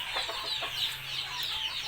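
A Mongolian black chicken, one of a breeding pair, clucks softly in a few short repeated calls, fairly quiet against faint background hiss.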